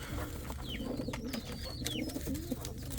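Indian fantail pigeons coo inside a loft: a steady, overlapping chorus of low, throaty coos runs throughout, with a few brief higher chirps above it.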